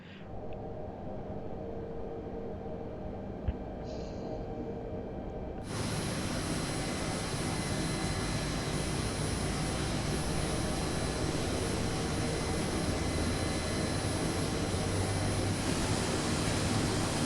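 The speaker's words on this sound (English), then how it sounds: "So let us start up the helicopter." Mi-8/17 helicopter engine starting up in Microsoft Flight Simulator: a quieter whine and hum first, then a sudden jump to a loud, steady turbine roar that holds to the end.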